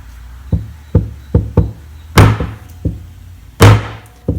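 Rubber and nylon mallets deliver a series of firm, hollow taps at an irregular rhythm, some louder and sharper than others, while fitting a part for a homemade camera stabilizer in a quiet workshop.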